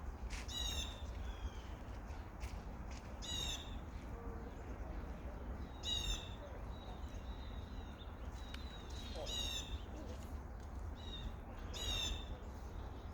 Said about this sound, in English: You can hear the bird chorus going on around us right now.